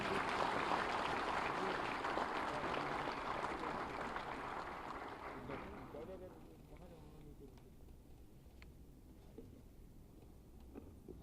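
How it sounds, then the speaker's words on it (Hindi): An audience at an Uttar Pradesh government ceremony handing appointment letters to selected naib tehsildars gives a steady round of applause that thins out after about six seconds, leaving faint room noise. "आपकी तालियों के प्रणाम के साथ"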